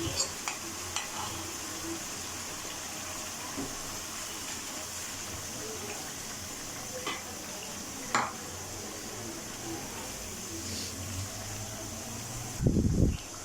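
Spice masala is mixed into yogurt for chicken achar karahi, with soft, scattered stirring and scraping strokes over a faint sizzle, ending in a louder clatter of the pot near the close.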